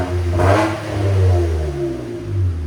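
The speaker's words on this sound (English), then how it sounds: "Again, rev it high." A 2023 Nissan Frontier with a 3.8L V6 revs up and drops back in two smooth, steady swells, its engine note heard close and clear with no voices.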